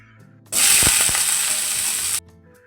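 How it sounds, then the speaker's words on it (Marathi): Oil sizzles loudly in a pan over medium flame for bombil bhurji. An abrupt hissing burst lasts under two seconds with a couple of scraping knocks, then cuts off to quiet. "त्यामध्ये आता 4 छोटे चमचे तेल टाकून घेते आहे आणि तेल गरम व्हायला द्यायचं आहे"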